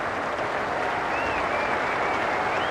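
Steady, sustained applause from a cricket crowd at Eden Park, Auckland, during the 1992 Cricket World Cup match between New Zealand and Australia, marking David Boon's century; dense, even clapping throughout with no voices standing out.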